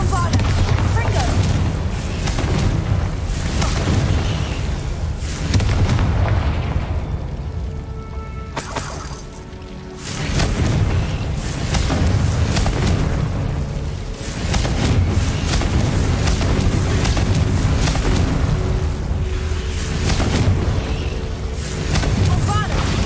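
Spell explosions from Bombarda and Confringo in Hogwarts Legacy: dense, loud booming blasts and rumbling detonations one after another, with a short lull midway, under a constant roar of combat noise.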